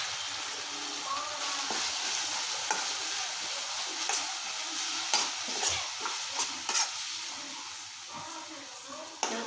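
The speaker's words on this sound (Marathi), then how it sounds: "तेल सुटेपर्यंत जरा परतून घेते।" Spice masala of coriander-cumin powder, turmeric, garam masala and chilli sautés in oil for prawn rice, a soft continuous sizzle with repeated spatula scrapes and taps, a few louder knocks toward the end.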